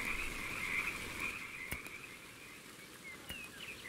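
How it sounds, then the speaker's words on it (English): Frogs croaking in the video game Ultimate Fishing Simulator, a loud steady chorus of outdoor frog calls with a few sharp clicks. "There's some frogs out there."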